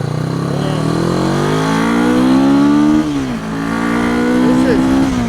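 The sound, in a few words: Honda CB360 motorcycle engine running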